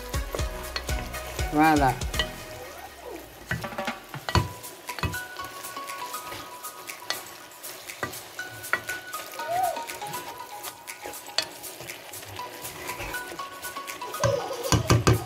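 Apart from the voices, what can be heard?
stirring food frying in an uncovered pan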